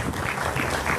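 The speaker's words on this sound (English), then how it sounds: "Let's also get one more round of applause for my guest speakers, Tammy and Brand." A brief burst of audience applause at a school board candidate's talk, a dense, steady wash of clapping from a crowd with no voices on top.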